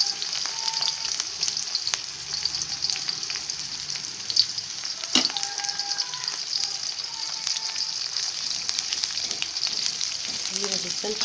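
One medium-sized onion frying in a pan, a constant bright sizzle with occasional stirring scrapes and a sharp clank partway through.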